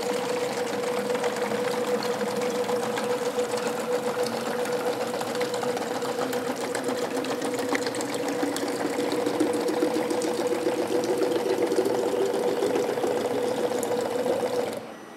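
An MDP-200B peristaltic dosing pump runs with a steady mechanical whirr and a constant humming drone that continues evenly, then cuts off at the very end.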